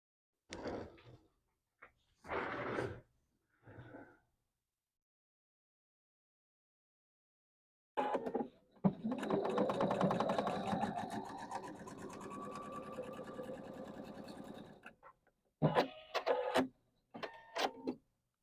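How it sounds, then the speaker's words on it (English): A sewing machine stitches a row of quilt blocks in a steady rapid whirring run lasting about seven seconds, close and clear, with brief handling and fabric rustles before and after. "And now I'm going to sew my bottom row same as I did for the top."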